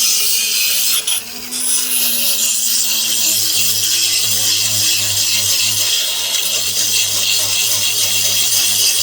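A Dremel rotary tool grinds steadily through a rough opal picture stone, a loud, continuous high-pitched whine with a rasping edge that dips briefly near the start and then holds close and even.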